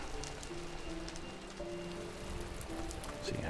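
Steady rain falls in a modded Minecraft 1.12.2 world, a continuous even hiss of drops that holds throughout with no talk over it.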